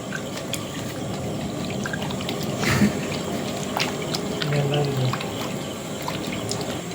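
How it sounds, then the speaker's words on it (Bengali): Raw chicken pieces being washed in water, with a steady trickling and splashing of liquid close by, partly masked by background voices and household noise. "আমাদের এখন মাংস ধোয়া হচ্ছে চিকেন"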